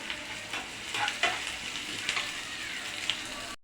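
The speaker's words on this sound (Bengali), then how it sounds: "এই তেলের উপরে, মাছের ভাজার তেলের পরে দিয়ে দিচ্ছি 1 কাপের একটু বেশি পেঁয়াজ।" Onions and small green chillies frying in oil left from frying fish, a steady close sizzle with a few louder bursts as they are stirred, and no voices.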